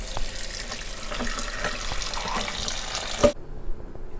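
Soaking water from pork legs poured down a sink, a steady splashing gush that ends abruptly with a clunk, followed by a few quiet trickles.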